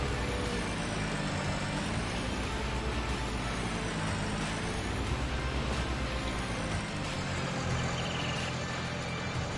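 A truck in Farming Simulator 19, with a 7.3 engine sound, idles with a steady, loud, droning rumble that stays constant and unbroken throughout.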